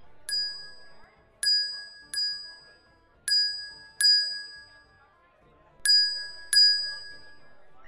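A bell rings out in seven separate bright, clear strikes, each ringing briefly and fading before the next, spaced irregularly with quiet gaps between them.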